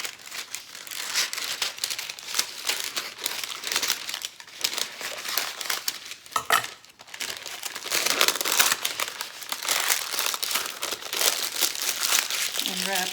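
Parchment paper crinkles and rustles continuously as sheets are cut in half and handled in a kitchen for wrapping hamburger patties, close and steady with brief pauses, under faint talk.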